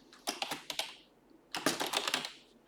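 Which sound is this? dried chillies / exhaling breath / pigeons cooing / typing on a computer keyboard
typing on a computer keyboard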